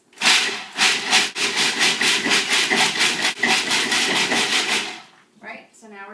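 A food processor pulses chocolate cookie dough ingredients with chai spices in rapid, regular bursts for about five seconds, loud and close, before stopping as a voice begins.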